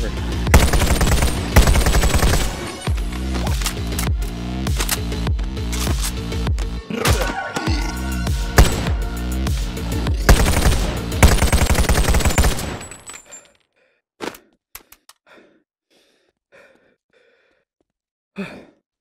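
Rapid, loud M14 rifle fire in the VR shooter Boneworks, dense bursts of shots for about twelve seconds, then a few isolated shots and clatters after the shooting stops.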